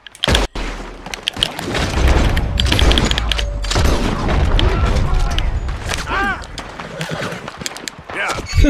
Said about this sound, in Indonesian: Baku tembak semua.